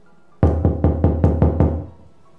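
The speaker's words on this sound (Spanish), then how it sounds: "tocó a la puerta" Five firm, evenly spaced knocks on a door ring out close and loud in a short, quiet moment.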